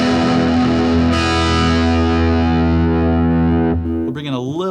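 Open chords strummed on an electric guitar through the glassy amp setting of a Positive Grid Spark 40 amp, ringing loud and sustained with a second strum partway through, then a brief warbling effect at the end.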